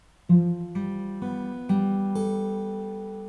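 Fingerstyle acoustic guitar plays a bar of a song from Final Fantasy X: five clear plucked notes and chords at an even pace, each ringing on with sustained harmonics, close and alone with no talk.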